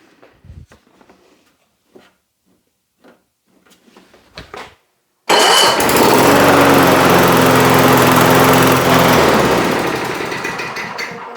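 After a few soft clicks and rattles, the 6.5 HP engine of a Toro lawn mower with a faulty new carburetor roars to life and runs loudly and steadily close by, then eases slightly.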